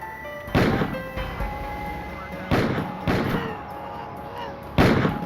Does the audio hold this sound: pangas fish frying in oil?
no